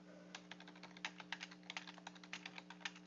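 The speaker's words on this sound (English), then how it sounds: "I will type that out." Quick bursts of typing on a computer keyboard, with sharp, close key clicks in an uneven rhythm over a faint steady hum.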